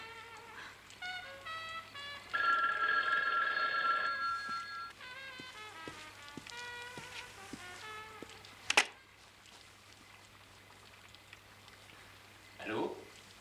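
Telephone ringing in a 1976 French television drama, bright repeated bell tones sounding over music in a quiet room, followed by a sharp click as the receiver is picked up.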